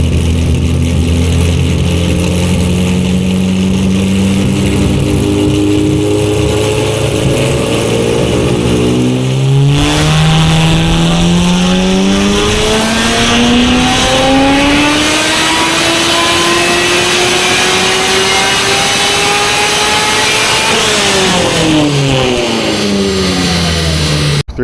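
An LS V8 engine in a C6 Corvette-based kart build runs loudly nearby, idling then revving up and down in long sweeping pulls.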